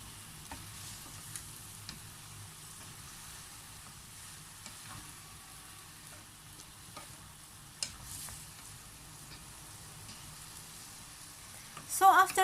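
Ginataang gulay vegetables cook in a pan under a faint, low sizzle, with scattered soft ticks and scrapes from stirring and a louder clatter near the end.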